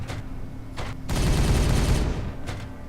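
Gunfire in the video game Regicide, heard as a dense, loud rattle of overlapping shots with a booming low rumble that swells and then fades, with a few softer bursts before it.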